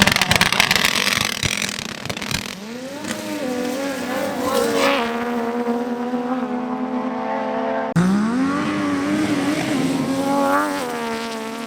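Yamaha YXZ outlaw-class race car ripping past, loud engine revving with rising and falling pitch sweeps, two distinct passes with a sharp transition between them.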